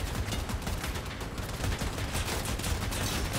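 An AC62 Therm autocannon fires in the Crossout vehicle combat game, a loud, dense stream of rapid shots that continues without a break throughout.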